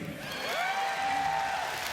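Crowd at the Vegas Shoot 2019 compound open championship archery shootdown, cheering and applauding with steady, moderately loud noise and a rising whoop.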